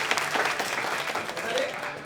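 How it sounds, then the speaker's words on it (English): A theater audience at a vaudeville show claps steadily for about two seconds, a dense, even patter of many hands at moderate volume. "give a wondrous round of applause for our assistants"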